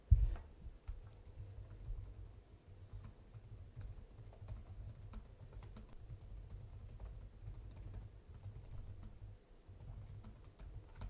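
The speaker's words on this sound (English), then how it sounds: "let's start with the typing test here" Steady typing on the keyboard of a 2024 Lenovo Legion Pro 5i Gen 9 laptop: soft, quick, even key clicks heard up close and alone for about eleven seconds, with a sharper tap at the start.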